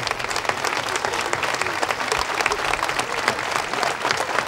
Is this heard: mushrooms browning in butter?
no